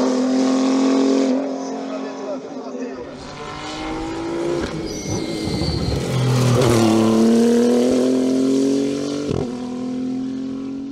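A Renault RS01 race car engine at a La Pommeraye rally event, loud, droning and revving up and down with a tire squeal, as a commentator talks over it.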